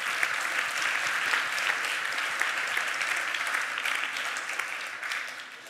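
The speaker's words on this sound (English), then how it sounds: "You clap for that." Audience at a machine learning conference talk claps, dense sustained applause from a sizable crowd that tapers slightly at the end.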